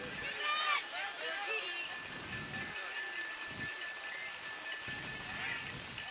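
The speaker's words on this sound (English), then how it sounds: "this rain continues to sort of just pelt us over here" Heavy rain pelting down on an outdoor men's lacrosse semifinal between Italy and Ireland at the European championship, a steady broadband wash with commentators talking over it throughout.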